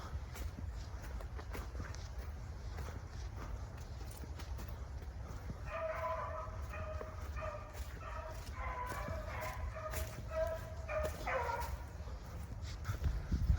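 Penny, a hunting dog tracking a cottontail rabbit in rain-wet North Carolina countryside, yips and bays in eager bursts at moderate distance over steady outdoor noise.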